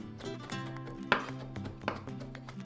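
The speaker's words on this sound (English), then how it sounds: "Also chop a quarter of a cup of fresh cilantro." A knife chopping fresh cilantro on a board, a couple of sharp distinct taps standing out over a steady background, close and fairly clear, with no talk.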